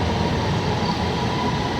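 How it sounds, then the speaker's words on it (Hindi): Train rolling into a railway station: a steady, loud, low rumble of wheels and carriages with an even hiss, continuous and unbroken, with no voices. "तो अभी ट्रेन आने वाली है।"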